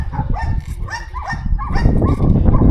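Several dogs bark and yip in quick, overlapping bursts close to the microphone, fairly loud and continuous, with no other voices heard.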